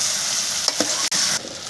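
Vegetables and spices frying in a pan, a close, steady hiss of sizzling broken by a few brief knocks of stirring, short and fairly loud, with no one speaking.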